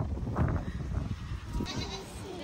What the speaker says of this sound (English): There's baby goats in there.